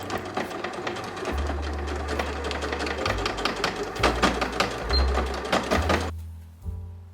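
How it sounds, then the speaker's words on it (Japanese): A sewing machine stitches the folded hem of a back-opening piece on a child's handmade suit, giving a close rapid chattering run with a low motor hum that shifts pitch several times before stopping near the end. "後ろあきの裾を中表に折って裾を縫う。"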